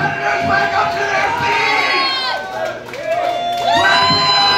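A loud crowd at a competition event cheers and shouts, with high-pitched whoops and screams rising and falling in waves close by.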